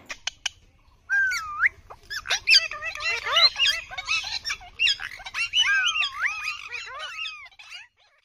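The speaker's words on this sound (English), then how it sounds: "P for parrot." A parrot squawks and whistles in a lively, close run of harsh calls and warbling chirps after a few sharp clicks, with no talking.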